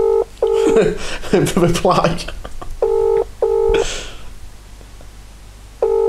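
Telephone dialing tones play over a loudspeaker, a series of short, evenly spaced steady beeps, with people talking over the first few tones before the beeps continue alone and fairly loud.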